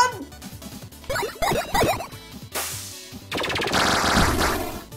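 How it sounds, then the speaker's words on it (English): Rapid minigun fire in the video game 20XX, dense buzzing bursts of gunfire in two stretches with game effects in between, loud and close, while a person talks over it. "Is that a minigun?"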